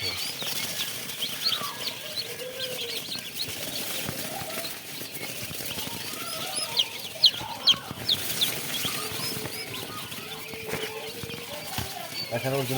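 Chickens on a poultry farm selling tiger chicken and turkey chicks alongside Japanese quail, with scattered clucks and brief wing flaps in the background throughout under continuous talking.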